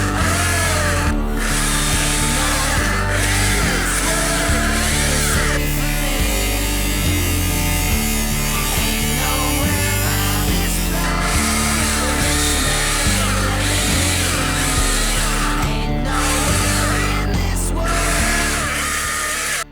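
Electric top handle chainsaw cutting through wood, a steady loud motor whine that stays continuous, with brief dips in pitch as the chain bites, running alone for nearly twenty seconds.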